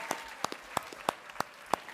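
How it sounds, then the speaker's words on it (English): A round of applause at a school board of education meeting: sparse, spaced claps from a small group, each sharp and distinct, repeating at a steady rhythm. "a round of applause"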